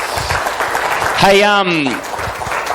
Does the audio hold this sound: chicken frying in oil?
no